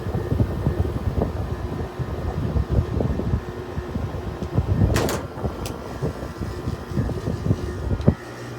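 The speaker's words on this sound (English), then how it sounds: "I can still hear the refrigerant." A Haier 5,200 BTU air conditioner running with refrigerant flowing, a steady mechanical hum and whirr mixed with irregular ticks and gurgling pulses, plus a brief sharp hiss near the middle.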